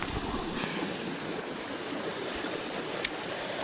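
A hidden waterfall in Wicklow, Ireland, heard as a steady, close, loud rush of falling water that fills the whole clip with constant broadband roar.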